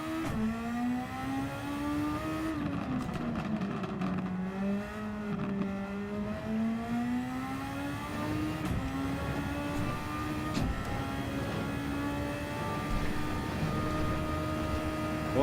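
A Red Bull X2019 race car in Gran Turismo 7 screams at full throttle on the Nurburgring, a steady high-pitched engine whine that dips and climbs with gear changes, loud and continuous without voices.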